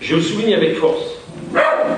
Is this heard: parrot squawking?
no